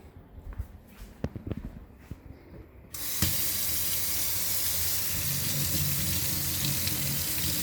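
A kitchen tap switches on and runs hot water in a steady, loud stream over a glass jar, with a few soft clinks and handling sounds before the flow starts.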